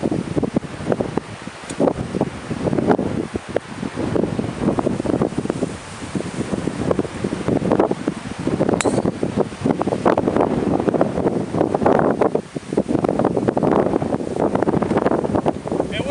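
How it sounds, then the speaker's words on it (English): Strong wind blowing outdoors on a windy December day, a steady loud rush buffeting the microphone and rustling nearby foliage, with no pause for the whole stretch. "The wind carried it in."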